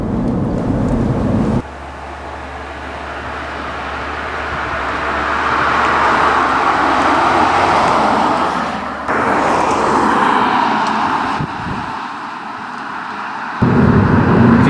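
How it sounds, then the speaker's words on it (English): 2011 Volkswagen Jetta TDI turbo diesel accelerating, heard as a broad steady roar of engine and road noise that swells and eases across the run, loud and close, with abrupt shifts in tone, no talk. "Step down on the gas pedal, the car does accelerate rather nicely."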